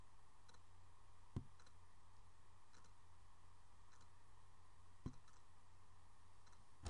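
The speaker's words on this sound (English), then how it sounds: "I'm going to click down here on sheet 2" A computer mouse clicks in a quiet room while a ledger's balances are brought up on a spreadsheet: three sharp, isolated clicks spaced several seconds apart over a faint, steady background hum, with no talking.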